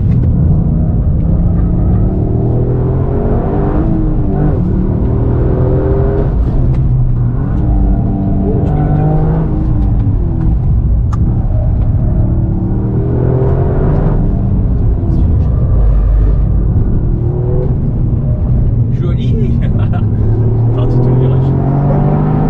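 A Toyota Yaris GR laps the circuit at Réunion, its engine droning and revving continuously through rising and falling pitch sweeps as it accelerates and lifts, loud and close from inside, with a voice talking over it at times.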